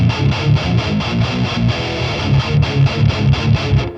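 Metal guitar tone from a 5150 amp sim through blended Red Giant 1, 5 and 7 impulse responses, with tight, loud palm-muted chugging riffs in a fast, driving rhythm.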